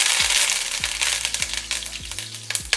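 Curry leaves hit hot oil with fenugreek and pepper, giving a bright, close sizzle and crackle with scattered pops and a few low knocks of utensil or pan.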